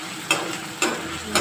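Jackfruit curry sizzles steadily in a pan as green chillies go in, with a low frying hiss and three evenly spaced scraping stirs, close by and without talk.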